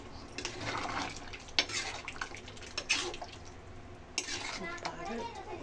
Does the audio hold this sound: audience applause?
no